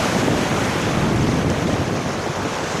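Raft crashing through white water rapids at an international white water course, a dense, steady roar of churning water and splashing with wind buffeting the microphone, loud and continuous, no voices.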